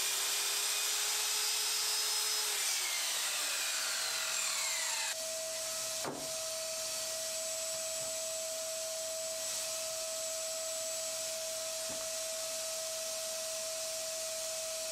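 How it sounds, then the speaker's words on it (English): A wide workbench leg for a Roubo-style split-top bench is sawn from two sides, giving a steady machine-like whir with a tone that shifts partway through and holds, loud and continuous. "On the legs, since they were so wide, I had to make the cut from two sides."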